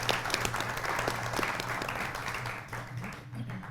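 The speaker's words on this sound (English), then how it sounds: "And let's have a round of applause for our panelists." Sustained audience applause for a panel of speakers at a winter discussion event, a dense wash of many hands clapping at steady volume before tapering slightly near the end.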